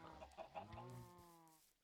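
Video game chickens cluck in a short burst of several clucks that trail into a drawn-out squawk, fairly faint, with no talking.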